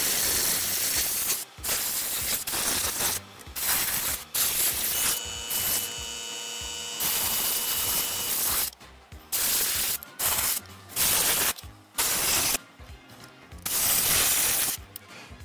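Pastel paint sprayed onto a tabletop terrain piece of a rusty bar, heard as loud, close bursts of hissing spray, stopping and starting in an irregular rhythm with short silent gaps.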